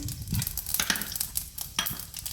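Mustard seeds and cumin sizzle in hot oil for tempering, a crackling spatter broken by several sharp stirring scrapes and clinks close by, with no talk over it.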